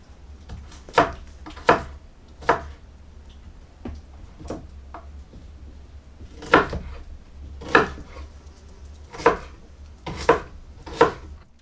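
A knife chops onions for onion soup on a cutting board in a village kitchen, crisp woody knocks falling in loose clusters of two or three cuts with short pauses between, close and clear with no talking.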